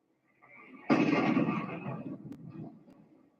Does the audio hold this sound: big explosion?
yes